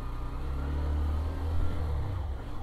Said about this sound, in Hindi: okay so first gear